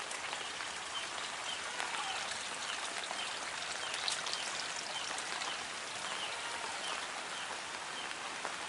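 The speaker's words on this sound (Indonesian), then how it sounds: "Masih hujan." Steady rain falls on a village in Dukuh Betong, a place of old natural springs, with a dense, even hiss of drops hitting surfaces continuing throughout and no talking.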